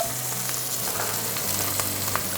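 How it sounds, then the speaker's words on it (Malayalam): Garlic and ginger fry in oil left over from frying eggs for egg mappas, giving a steady close sizzle with faint crackles and light stirring, and no talking. "നമ്മൾ ആ മുട്ട വറുത്ത സെയിം എണ്ണയിലോട്ട് വെളുത്തുള്ളി ഇട്ട് കൊടുക്കുന്നു, അതുപോലെ തന്നെ ഇഞ്ചി ഇട്ട് കൊടുക്കുന്നു"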